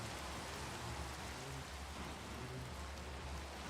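Rain pattering in Minecraft, a continuous close hiss of drops on surfaces with faint low rumbling underneath, steady for the whole stretch with no talking.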